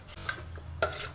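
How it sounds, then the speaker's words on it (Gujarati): A spoon stirs maize-flour dhokla batter with lemon juice and Eno in a bowl, giving two quick close scrapes against the side over a soft steady background. "હવે આપણે એને સારી રીતે બધું મિક્સ કરી લેવાનું છે"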